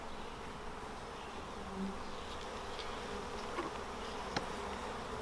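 Honeybees hum in a steady, dense buzz around a nucleus colony hive, continuous and close, with no talking.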